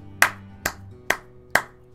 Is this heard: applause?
yes